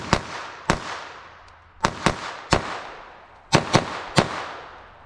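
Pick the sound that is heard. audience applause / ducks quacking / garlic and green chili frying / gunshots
gunshots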